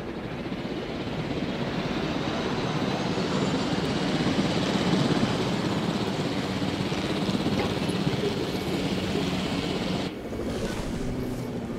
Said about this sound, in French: L'hélicoptère. Attends, je vais le piloter.